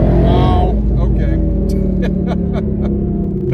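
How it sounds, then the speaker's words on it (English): A car fitted with a Hellion twin turbo kit accelerates hard, its loud rising engine roar heard from inside the cabin while someone speaks over it. "Boy, this car sounds good. Here comes the power."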